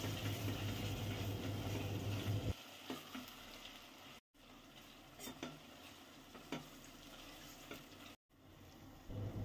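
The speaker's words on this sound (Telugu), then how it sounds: "ఈ అల్లం వెల్లుల్లి పేస్ట్ కూడా కొంచెం పచ్చివాసన పోయేంత వరకు వేయించుకోవాలి." Ginger garlic paste frying in a pan for dry prawn biryani: a loud sizzle at first, then quieter frying with intermittent spoon scrapes and clicks against the pan, alone and close.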